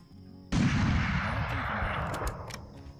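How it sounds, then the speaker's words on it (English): A single loud rifle shot fired at a kudu in Hunting Unlimited 2009 cracks out of near silence, followed by a long rolling echo that slowly fades. "Looks like we got a vital shot."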